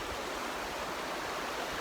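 Steady broadband rushing of a cold river at Glen Nevis, with wading water churning close and continuous, no voices over it.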